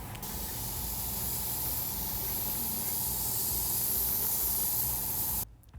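Cleaner spray blasts steadily into an emptied Jeep JK axle housing, a loud, close, continuous hiss lasting several seconds before cutting off abruptly.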